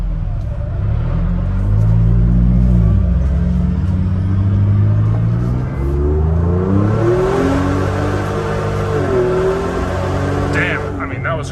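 A tuned Ford Bronco Wildtrak running on E30 fuel with a blow-off valve upgrade revs up and down loudly, its engine note rising and falling, with a hissing whoosh near the end.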